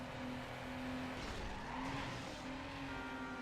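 Car tires skidding and squealing as a street racer spins out in Need For Speed Underground, a sustained squeal with a steady engine drone underneath, loud and continuous throughout.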